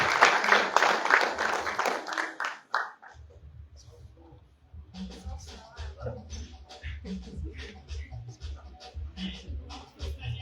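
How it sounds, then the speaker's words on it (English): Applause from an audience at a sophomore orientation event rises loudly for about three seconds, then breaks off into scattered claps and room chatter, with a voice talking over the thinning noise. "Please, round of applause for"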